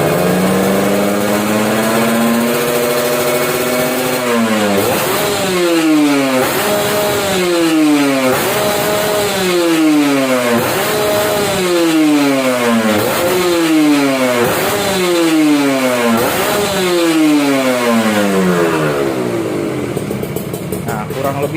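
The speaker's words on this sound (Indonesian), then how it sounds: "Ini knalpot RC3 leher model L, volume tabung 39 ya." A Kawasaki Ninja RR SE two-stroke motorcycle with an RC3 L-neck expansion chamber exhaust revs repeatedly, its loud, close, raspy engine sweeping up and down in regular blips for about twenty seconds.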